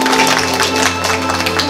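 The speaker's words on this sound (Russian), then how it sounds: "давайте еще раз поаплодируем" Guests at a wedding registration ceremony clap for the couple, a brief burst of dense applause mixed with a steady musical tone underneath.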